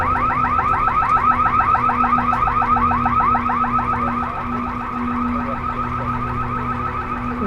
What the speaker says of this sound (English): It's such a sensitive alarm system.